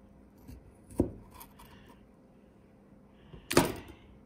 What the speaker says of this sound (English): So here's the Blush tomato. Let me go ahead and cut it in half.